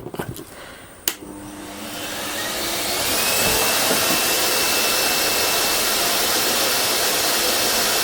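A 1400-watt shop vac powered by a Projecta IP1000 1 kW inverter switches on with a click, then spins up over a couple of seconds into a loud, steady hissing roar.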